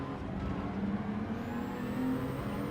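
Race car engines from Gran Turismo 7, with a Dodge Viper among them, drone steadily in a close, continuous roar with a rising pitch as a car accelerates.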